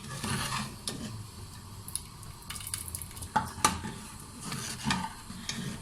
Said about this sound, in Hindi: अब हम इसको तड़का लगाएंगे